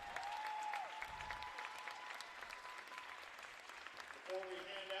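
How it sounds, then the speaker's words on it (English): Steady applause from a crowd at a middle school volleyball final trophy ceremony, honoring both teams; the clapping runs throughout, fairly soft and distant in a gym, with faint voices mixed in. "Give them a round of applause."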